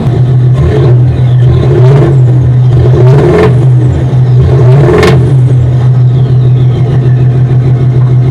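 A Range Rover engine idles with a steady low rumble heard from the rear exhausts, blipped a few times into brief revs, close by and continuous.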